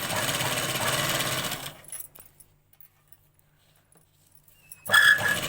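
A sewing machine runs a steady stitch along a strap for under two seconds, then stops, followed by silence and a short burst of rattling and clicking near the end.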